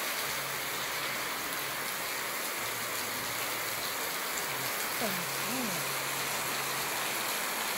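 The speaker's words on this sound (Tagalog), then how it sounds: "Lakas ulan." Heavy rain pours down on an outdoor afternoon, a steady dense hiss that soaks chairs and a map, with faint voices and a few short tones beneath the downpour.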